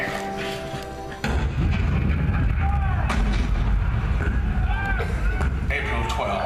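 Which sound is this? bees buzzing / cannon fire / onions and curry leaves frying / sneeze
cannon fire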